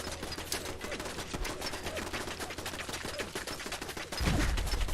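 Rapid, continuous turret gunfire rattles in Fallout 4 with the Sim Settlements 2 mod, a dense stream of sharp shots at moderate distance, ending in a heavier low thump.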